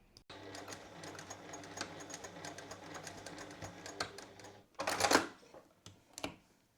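A sewing machine runs steadily, stitching a seam on a jacket, with a brief pause near the end before a louder burst of stitching and a final short run.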